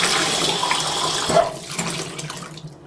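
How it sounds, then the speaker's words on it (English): Water sloshing and running in a sink as wool is washed with lanolin, a loud steady wash that briefly peaks and then thins and fades toward the end. "You're going to want to swish the water around a little bit."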